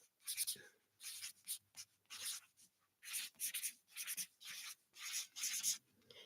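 A pen scratches across paper on a table, close and quiet, in a series of short rhythmic strokes separated by brief pauses.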